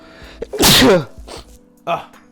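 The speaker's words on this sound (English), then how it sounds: "Make sure you get that sneeze, man." A single loud, close sneeze bursts out, followed moments later by a short vocal sound, against a quiet background.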